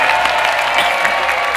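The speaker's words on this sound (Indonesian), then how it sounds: "Tepuk tangan buat Boye." A studio audience applauds at a televised music-and-quiz variety show, steady dense clapping filling the short moment without a break.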